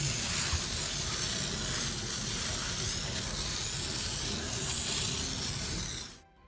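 A steady, loud hiss of pressurized water from a portable sprayer rinsing a car, continuous and close by, then cutting off abruptly at the end.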